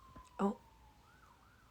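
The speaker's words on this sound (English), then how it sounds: "I don't know if you can hear the sirens," A city siren wails faintly in the distance, its tone rising and falling slowly in the background while a voice briefly exclaims near the start.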